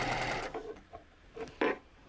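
A sewing machine stitches fabric in short, separated bursts of whirring, fairly quiet and close, with pauses between runs.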